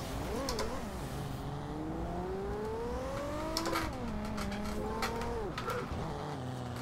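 Engine of a car drifting in Forza Horizon 2, a loud sustained roar whose pitch rises and dips repeatedly as the revs climb and fall, with brief clicks throughout.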